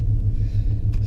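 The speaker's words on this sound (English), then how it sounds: "we're gonna jump in the old yard truck" An old yard truck's engine idles with a deep, loud, close rumble and a steady low pulsing throb over about a second.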